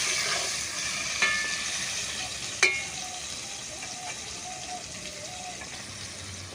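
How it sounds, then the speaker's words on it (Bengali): Raw mango pieces frying with salt in a pan for a shol fish curry, a moderate steady sizzle broken by a couple of sharp clacks of a utensil and brief faint tones. "লবণটা দিয়ে আমি ভালো করে আবার আমটাকে ভেজে নেবো একটু"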